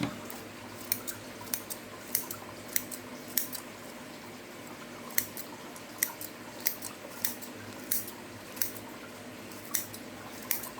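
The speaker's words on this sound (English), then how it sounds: "We'll take the scissors, some grandma's shears." Repeated crisp snips of scissors cutting through grass, spaced irregularly, close by with a soft rustling background.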